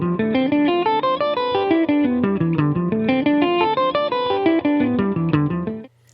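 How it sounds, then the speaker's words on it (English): Electric guitar repeating a descending and ascending minor 7 arpeggio from the root 5 position as a practice loop, with even, steady single notes, close and clear, ending with a brief fade. "So that's a nice loop to practice, because it is just a minor 7 arpeggio from the root 5 position"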